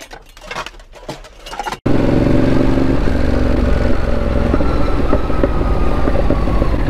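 A motorcycle engine on a Paris street snaps in loud and close after a brief quieter stretch, then drones steadily at a sustained roar as it passes.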